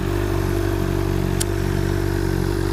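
A 2007 Honda CBR600RR inline-four sport bike runs steadily close by, its engine and exhaust giving a dense, even mechanical drone with a brief sharp tick partway through, no voices over it.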